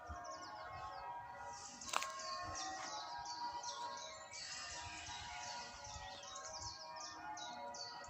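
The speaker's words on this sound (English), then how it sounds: "The birds are cheeping," Small birds cheep and chirp repeatedly in the distance over a quiet outdoor background, with one sharp brief knock partway through.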